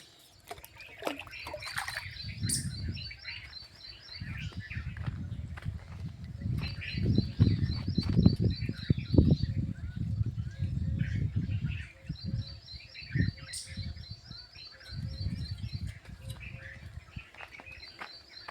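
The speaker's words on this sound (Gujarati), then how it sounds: "તો આખો દી હું પક્ષીઓ પાણી પીધા કરે, તરસ્યા થાય એટલે અહીંયા પીવા આવે પરબે" Small birds chirp and twitter in repeated bursts at a farm water trough over a soft watery patter, moderately close, with occasional light knocks.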